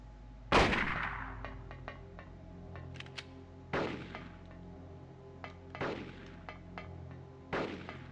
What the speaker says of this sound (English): we're going to have her waste all her ammunition on the pistol